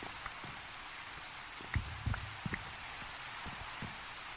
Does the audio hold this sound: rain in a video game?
yes